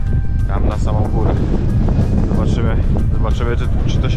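Strong wind in Sicily buffets the microphone with low, rumbling gusts, steady and loud beneath someone talking close by.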